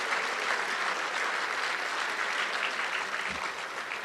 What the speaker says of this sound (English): how about a round of applause for those high school students that are helping us?